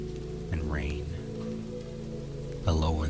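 Drizzle falls in a steady, soft hiss alongside delicate glass wind chimes, with a low background hum, a couple of brief rising tones and a louder swell near the end.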